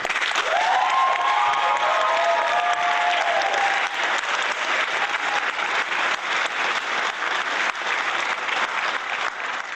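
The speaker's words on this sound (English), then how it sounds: "Let's give them a round of applause," Audience applause and cheering fill a large hall at an awards presentation for a competition, a dense sustained roar of clapping with a few high whoops early on, staying loud throughout before easing slightly.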